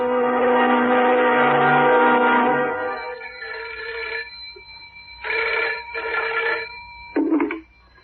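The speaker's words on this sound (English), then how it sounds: "I made a phone call to Derek's parents." A telephone rings in a radio drama sound effect, with a long burst followed by several shorter, sharp rings separated by pauses, loud and close with no voices.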